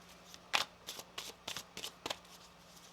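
Tarot cards being shuffled by hand up close, a quick series of riffling flicks and soft slaps.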